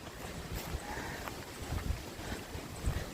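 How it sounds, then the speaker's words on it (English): Strong wind of around twenty miles per hour blows across a hiking trail on the Appalachian Trail, rushing and buffeting the microphone in uneven gusts at a moderate level. "But the wind continues to blow, like 20-mile-per-hour winds today, continues to blow."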